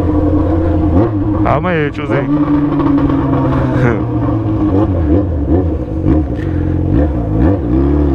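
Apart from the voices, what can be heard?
loud XJ motorcycle revving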